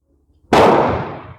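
A single sharp gunshot from a Dutch Mannlicher rifle firing PPU 130 grain or Hornady 160 grain round-nose bullets, loud and close, with a ringing decay trailing off after the crack.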